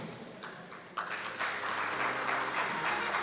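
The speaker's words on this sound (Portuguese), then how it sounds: "Vamos recebê-lo com uma salva de palmas." Audience at a Brazilian road conservation conference claps to welcome a panel member, the applause starting thinly then swelling into a fuller, steady patter of many hands in a large hall.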